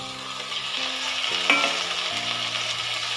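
Onion and tomatoes frying in a pan for bendekai gojju give a steady close sizzle, with a brief spatter as the pieces are stirred, and no voice over it.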